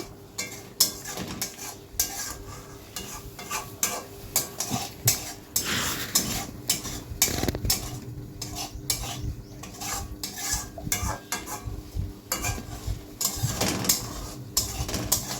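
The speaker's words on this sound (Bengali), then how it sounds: "এরপর আমি আলুটা আর বেগুনটা দিয়ে দিচ্ছি মশলার সাথে কষিয়ে রাখার জন্য।" Potato and eggplant being stirred and sautéed with spices in the oil left from frying fish, with repeated scraping and clattering of a utensil against the pan and a low sizzle underneath, steady for the whole stretch with no talk.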